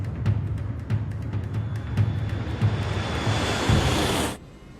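Jet engines of a Germanwings airliner spool up to takeoff thrust on the runway, a loud, steady broadband roar with faint rhythmic thumps that builds and then cuts off abruptly near the end.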